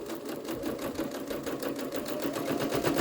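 Sewing machine running steadily as it stitches over a fabric seam while making a scrappy strips nesting pouch, a continuous close, even mechanical whir with rapid regular needle ticks throughout.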